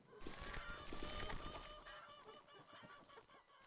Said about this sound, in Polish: Kury